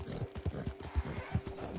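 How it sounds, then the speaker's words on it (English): Horse hooves clip-clop in the Red Dead video game in a steady, fairly close walking rhythm of about seven soft thuds, with a faint tonal hum underneath. "My horse is getting tired."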